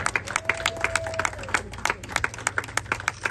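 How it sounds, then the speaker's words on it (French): Audience applause at the inauguration of a sports ground in Basse-Terre, Guadeloupe, heard as steady mid-distance clapping from a crowd, with a faint whistle-like tone early on and a low background hum. "les applaudissements du public."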